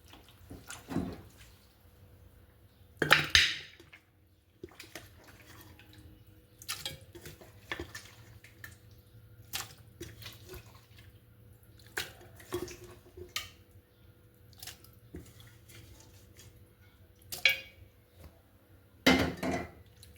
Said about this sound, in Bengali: এবার আমি এগুলো মাংসগুলোকে সুন্দর করে প্রেশার কুকারে বসিয়ে দিচ্ছি।